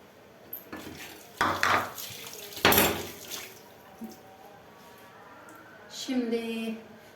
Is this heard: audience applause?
no